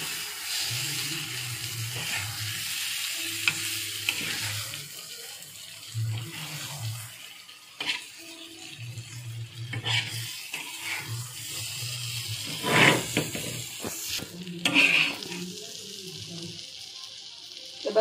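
Goat brain frying in oil on a griddle sizzles softly while a spatula stirs and scrapes it in intermittent strokes, with a few sharp clinks, close and moderately quiet.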